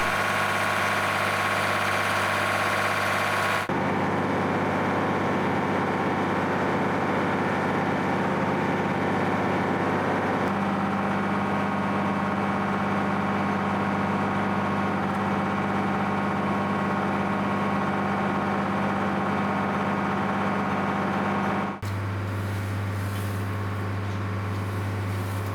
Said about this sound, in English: The mixer is PTO driven. This tractor supplies the power.